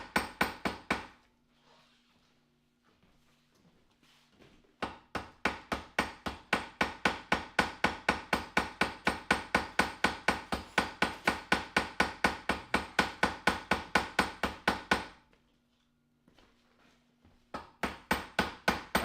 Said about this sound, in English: The great hammering experiment.